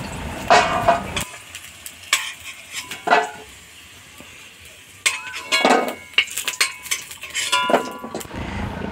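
Golden fried potatoes are scooped out of a wok of oil with a metal spatula, giving several scraping clinks in bursts between quiet pauses, with faint sizzling underneath.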